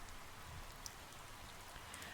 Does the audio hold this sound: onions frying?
no